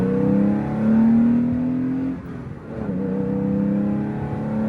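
A late-1970s Porsche 3.2 engine drones close by, climbing slightly in pitch, then dropping away briefly before settling back to a steady revving hum.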